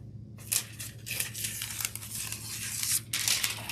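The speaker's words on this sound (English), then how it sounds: "right now we're going to use our standard orange foil" Orange foil being handled and crinkled up close, with continuous papery rustling and crunching in uneven bursts over a low steady hum.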